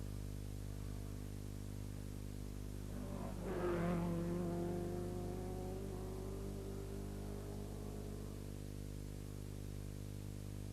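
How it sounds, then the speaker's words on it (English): A 3-litre Porsche rally car on the 1981 Circuit of Ireland Rally approaches and passes, its engine rising to a loud, revving peak mid-clip and then fading away over a steady background hiss. "Noel Smith's beautiful sounding 3-litre Porsche."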